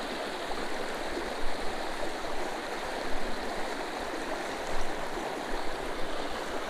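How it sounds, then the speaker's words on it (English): A shallow creek in North Carolina flows steadily nearby, a constant even rush and babble of water with small splashy swells and no voices. "This creek looks very shallow."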